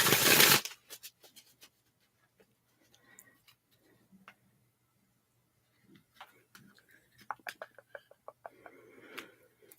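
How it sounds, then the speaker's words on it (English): Quiet, close shuffling of large cards with soft riffling clicks and flutters in short bursts, after a brief loud rustle at the start. "So it makes it difficult for me to shuffle properly."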